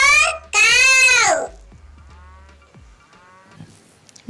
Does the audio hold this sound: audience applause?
no